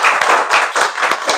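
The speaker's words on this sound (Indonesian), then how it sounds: "Ya, tepuk tangan buat Riz." An audience claps at an Islamic religious talk, with about half a dozen quick, bright bursts of hand-claps close by in a brief, steady patter.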